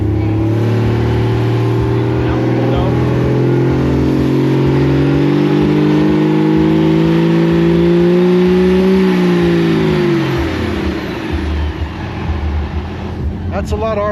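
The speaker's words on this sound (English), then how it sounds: "That's a lot of RPM for a Cummins." A Cummins diesel engine at a Dallas car show revs hard and holds at high RPM as a loud, close drone, then winds down, with talk underneath.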